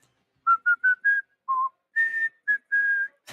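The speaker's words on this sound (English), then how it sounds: "we're all whistling." Several people whistle a short melodic phrase in eight clear, close notes separated by brief pauses, with no talking.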